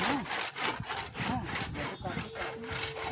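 A hand saw cuts through wood in quick, even back-and-forth strokes, each rasping pass repeating rhythmically at close range over about three seconds.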